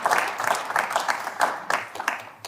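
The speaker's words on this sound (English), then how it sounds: "Should we give an applause?" Audience applause at a business conference event, a burst of many hands clapping with uneven rhythm, fairly close and steady throughout, no talk over it.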